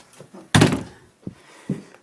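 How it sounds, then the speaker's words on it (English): A door is pulled shut in a cluttered home workshop with one loud, close thump, then two fainter knocks as it settles. "I gotta close this door."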